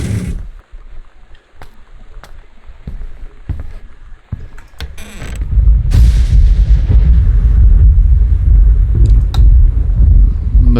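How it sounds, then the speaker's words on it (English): Thunder in the video game Gone Home: faint clicks and knocks give way to a loud, deep rolling rumble that swells midway and keeps growling to the end. "The thunder doesn't help."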